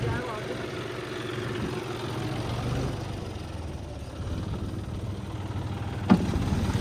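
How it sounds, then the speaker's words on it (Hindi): A John Deere tractor idles and runs in a flooded paddy field, a steady low engine drone throughout with a brief sharp clank near the end; someone talks over it. "ये देखो भाई चल दिया अपना जॉन डीयर"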